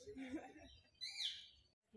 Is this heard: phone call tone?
no